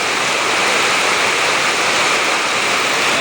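Sudden heavy downpour of rain, a dense, steady roar of broadband hiss that stays loud and unbroken throughout with no voices.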